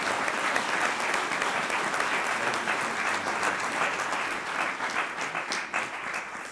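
A church congregation at Calvary Baptist applauds new members joining for baptism, a sustained, fairly loud round of clapping that thins slightly toward the end.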